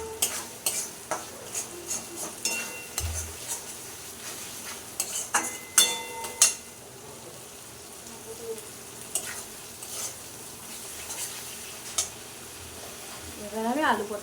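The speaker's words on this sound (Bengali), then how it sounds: "এবার মশলাটা কষা হয়ে গেছে, তেল ছাড়তে শুরু করে দিয়েছে" Spice paste frying in oil in a pan while a spoon stirs it, for a potato and pointed gourd curry, with soft sizzling under repeated scraping and clinking strokes of the utensil against the pan.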